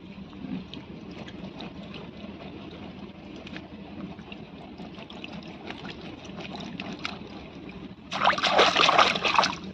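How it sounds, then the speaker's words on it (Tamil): Water runs steadily from a tap with light trickling and dribbling, then gushes louder near the end as curry leaves are rinsed under the flow. "வாங்க தண்ணியில் கழுவிட்டு வந்துடலாம்"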